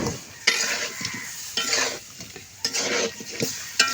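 Fish pieces are stirred and fried in a hot pan, with a steady sizzle broken by repeated scraping strokes of the spoon at a close, moderate level, and no voices.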